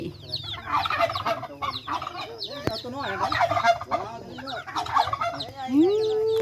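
Chickens cluck and call close by in a rural Lao or Thai setting, repeated bursts of squawking and clucking over a low steady hum, with a rising whistle-like tone at the end.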